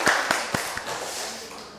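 A church congregation at a Wednesday worship service applauds in welcome, a few sharp claps at the start ringing out and fading into a reverberant hall.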